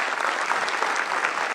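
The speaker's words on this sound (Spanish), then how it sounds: "pido un fuerte aplauso para ellos" Audience applause for firefighters at a community event, a short burst of dense, even clapping at steady volume that ends abruptly.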